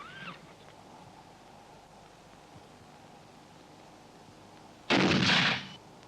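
Battle simulator explosive used to mimic an anti-tank gun firing during a field exercise, a single sharp blast with a short noisy tail after a long quiet stretch, moderately loud and alone.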